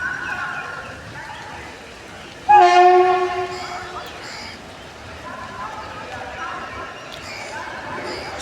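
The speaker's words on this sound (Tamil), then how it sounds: "இப்போ சென்னை எக்மோர்லேருந்து குருவாயூர் வரைக்கும் நம்ம குருவாயூர் எக்ஸ்பிரஸ் வேப் 4ஓட அரைவ் ஆகிட்டுருக்கு, உள்ள திருச்சிக்குள்ளே அரைவ் ஆகிட்டுருக்கு." The Guruvayur Express from Chennai Egmore arrives at Trichy behind a WAP-4 electric locomotive, sounding one loud, harmonic horn blast of about a second and a half over faint rumbling background, with softer distant horn tones following.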